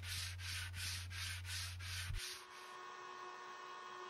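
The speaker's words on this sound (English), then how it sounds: "I finished up with some hand sanding, going with the grain with 120" Rhythmic back-and-forth strokes of 120 to 220 grit sandpaper rasp along the grain of a wooden dinghy mast, about eight passes close by, then stop, leaving a faint hum.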